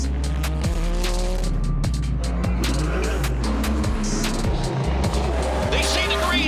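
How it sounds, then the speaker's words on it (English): IMSA sports cars race at Sebring, with loud engines roaring and revving close by, tires squealing, and a dense, continuous wash of motorsport noise throughout. "Loud, fast, exciting racing."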